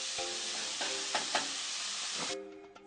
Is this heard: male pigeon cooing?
no